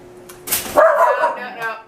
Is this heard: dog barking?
yes